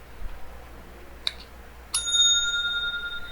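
A bell app on a phone plays a bright bicycle-style ding: one short faint strike, then a louder ringing chime that sustains and slowly fades, alone with no talk.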